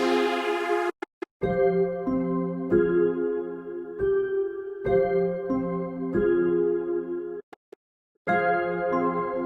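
Synthesized bell tones from a Prototype Audio Fraction synth ring out in a series of sustained chords, each decaying before the next, with brief silent gaps between phrases.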